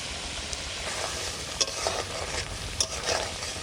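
Ajay river prawns fry with green chili in a pan, giving a steady close sizzle broken by a few sharp crackles and stirring scrapes, with no voices over it.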